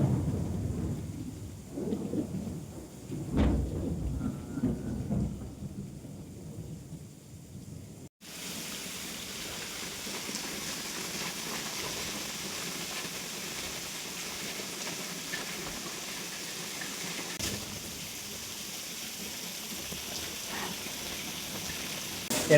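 A heavy monsoon thunderstorm with rumbling thunder rolls in the first seconds, followed after an abrupt cut by a steady wash of rain falling on surfaces, moderately loud and continuous.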